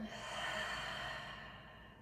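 A long, steady open-mouth exhale during a prenatal yoga flow, a soft breathy rush that swells and then slowly fades over about two seconds, heard close and alone.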